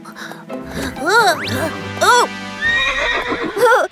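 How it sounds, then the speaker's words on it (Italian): A winged horse in an animated children's cartoon whinnies several times, with loud, wavering calls rising and falling in quick succession over a low, steady background. "Sono davvero in groppa a un cavallo alato!"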